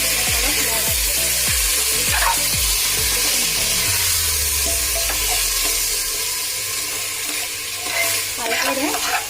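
Rice pulao being stirred in a pan over a low flame, a steady sizzle of frying throughout with a run of quick scraping stir strokes early on, close and fairly loud, with no talking.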